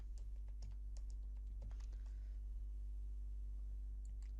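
Fingers tap an amount into an Excel spreadsheet on a computer keyboard, a handful of soft, scattered keystrokes over a constant low electrical hum.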